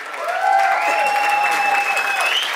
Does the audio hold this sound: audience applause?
yes